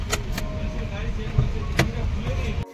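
A car rolls slowly through a car park, a steady low engine and road rumble close by with a few sharp clicks or knocks, before the sound cuts off abruptly near the end.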